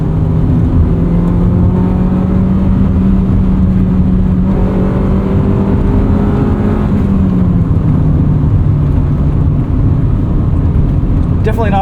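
A 1999 Honda Civic Si (EM1) engine hums steadily from inside the cabin while driving, its pitch climbing and then dropping in a drawn-out rev, loud and continuous with road noise underneath.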